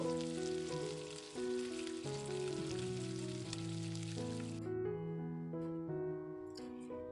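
Spring onion pakoras deep fry in hot oil with a steady, rain-like sizzle that cuts out partway through, while tuneful background music plays over it throughout.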